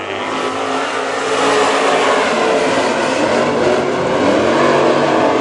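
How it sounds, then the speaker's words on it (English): WISSOTA Super Stock race cars roar away together at the green flag of a heat race at Princeton Speedway, a dense, loud, sustained engine blare that swells slightly as the pack accelerates, with no voices. "Back underway in our Superstock heat race."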